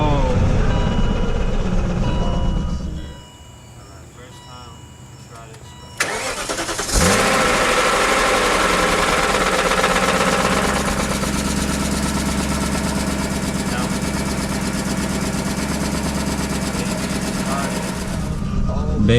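A 2002 BMW 540i E39 V8 cranks and catches on its first start after a rebuild, then settles into a steady, loud idle, with voices speaking over it.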